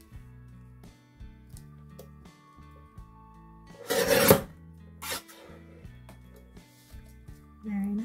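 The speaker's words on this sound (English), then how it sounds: "So we'll trim off a tiny bit." A Crafter's Companion paper trimmer slices a tiny strip off card in one short rasping pass, heard close up and alone over faint background hum, with a second brief scrape following a moment later.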